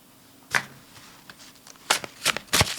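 Tarot cards are shuffled and pulled in several quick riffling bursts, close and crisp, separated by short quiet pauses, with no voice over them.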